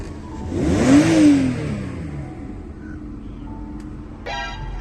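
A BMW E46 engine revs hard once, rising and falling in a quick roar, then settles to a low idle; a short horn-like tone follows.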